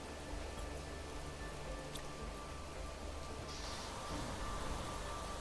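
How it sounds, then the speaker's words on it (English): Steady rain falls in the video game Planet Crafter. It makes an even, hissing wash of noise with no breaks, and a faint tonal hum sits underneath. "It's a rainy one out here today."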